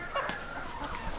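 Chickens cluck in a coop holding pure-breed fowl and pheasants, a close, continuous cackling over a noisy farmyard background with no talk.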